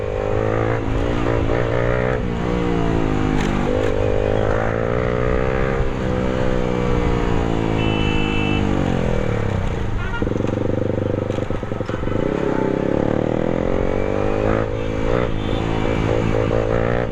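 A motorcycle engine hums with a strong tonal note that climbs and dips through repeated revs and gear changes, loud and close for the whole stretch.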